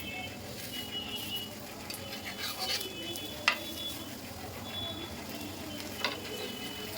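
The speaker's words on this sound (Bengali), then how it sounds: "খুন্তি দিয়ে দিয়ে আস্তে আস্তে একটু চেপে দিচ্ছি" A potato and egg snack with semolina sizzles steadily in a pan while a spatula presses it down, with a few soft scrapes and taps over the continuous frying hiss.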